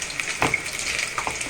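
Chicken necks fry in hot oil with a dense, continuous crackle and sizzle, close and fairly loud, with a few brief louder pops and spatters.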